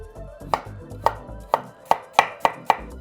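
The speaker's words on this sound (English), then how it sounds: "All right, so we're gonna cut this in half." A knife chops through food on a cutting board in a run of seven or eight crisp, close knocks. The knocks come quickly and speed up slightly toward the end.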